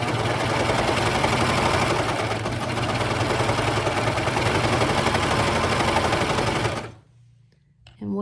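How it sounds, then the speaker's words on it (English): A serger sewing machine runs steadily for about seven seconds while it finishes a fabric edge for quilt-frame leader cloth, with a dense mechanical whir that stops abruptly, leaving near silence and a faint restart. "But I have a serger, which I'm going to use next and show you how."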